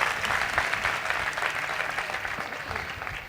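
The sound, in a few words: congregation applauding during a sermon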